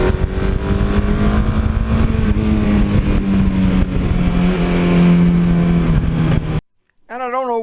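A 1982 Suzuki GS1100E motorcycle engine runs steadily and loudly up close, a rough continuous drone with a slight pitch rise, then cuts off abruptly near the end before a brief different sound.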